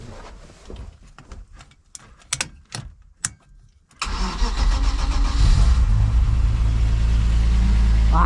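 Drift car engine cranking with several sharp starter bursts, then catching at once and settling into a loud, steady idle close by, with no talk.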